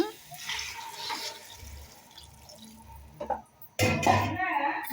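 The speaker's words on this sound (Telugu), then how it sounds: "ఉడకడానికి తగినంత వాటర్ పోసుకోవాలి" Water pours into a cooking pot for boiling, close by, starting suddenly and running steadily after a stretch of quieter kitchen noise.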